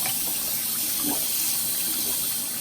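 Tap water runs steadily into a sink as makeup brushes are rinsed under it, a continuous broadband rush with faint shifting splashes where the bristles meet the stream, fairly close, with no talk.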